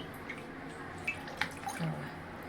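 Water drips from hand-squeezed spinach into a bowl, with a few distinct, faint drops and soft squishing over a quiet background.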